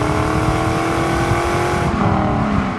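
A 2000 Pontiac Formula WS6 with an LS1 V8, automatic transmission and factory exhaust drones loudly while driving, its engine note shifting as it downshifts near the end.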